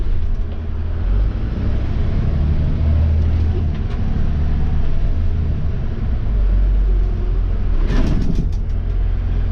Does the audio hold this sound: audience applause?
no